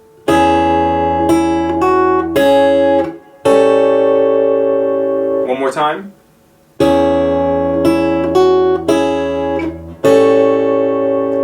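Plucked fingerstyle guitar notes ring out in short phrases, broken by a brief gap where a voice speaks, then the picking resumes with sustained chords.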